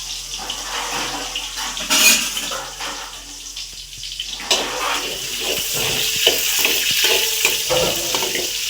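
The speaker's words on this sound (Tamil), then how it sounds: "கடுகு நல்லா பொரிஞ்சு வருது. இப்போ நம்ம போடுற வெங்காயம்." Onion hits a pan of spluttering mustard seeds, giving a bright hissing sizzle with a burst of crackle, then scraping stirs continue close by over the frying noise.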